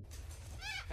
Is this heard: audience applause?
no